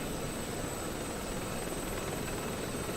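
A Mi-8 helicopter in a video game, its rotor and engine giving a continuous loud broadband roar that holds steady throughout with a thin high whine on top.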